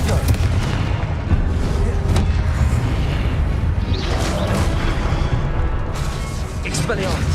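Confringo fire-blast spells exploding during Hogwarts Legacy combat, loud dense booms and crashes rolling one into another without pause, with game voices mixed into the din.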